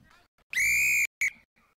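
Referee's whistle at a third-grade rugby union match between UWA and Wanneroo: one long, loud shrill blast followed by a short second toot, with faint talk around it.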